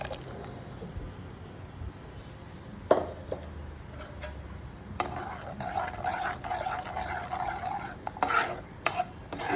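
Kashmiri dum aloo stirred in a pot after tomato puree goes in: quiet wet squelching and scraping that grows busier partway through, with a few sharp clicks of the spoon against the pan, no speech.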